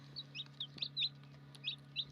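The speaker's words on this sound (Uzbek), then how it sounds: "Mana jo'jalarim." Newly hatched chicks peep in short, high chirps, repeated every fraction of a second, over a steady low electrical hum from an incubator.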